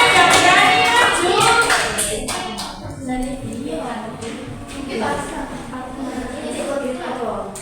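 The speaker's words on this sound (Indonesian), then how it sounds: "Beri tepuk tangan dulu dong." Children clap together in a classroom, a loud burst of applause at the start that thins into scattered claps with voices talking over it.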